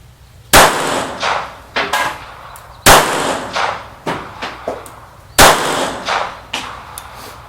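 A P-64 pistol firing 9x18 Makarov rounds outdoors, three loud sharp shots spaced a few seconds apart, each followed by echoes and faint clinks of spent casings.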